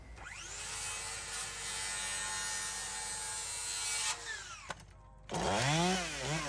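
A chainsaw cuts straight down through a wooden cabin post, a loud, sustained whining drone for several seconds that bogs slightly before stopping, then a voice speaks.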